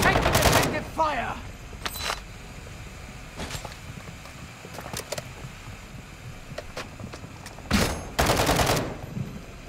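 Mid-caliber gunfire in a video game rings out as loud bursts of rapid shots at the start, around the middle and near the end. Quieter scattered pops fill the gaps between them.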